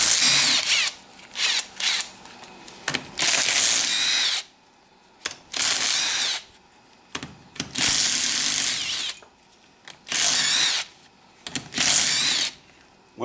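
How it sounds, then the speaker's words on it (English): A power tool rattles in repeated loud bursts while loosening the bottom bolts, each burst a few seconds long with short pauses between, close and alone. "we will get the bottom bolts off"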